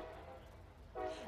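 A passing train rumbles at an outdoor book festival, a faint low drone that swells into a loud, sustained horn blast near the end.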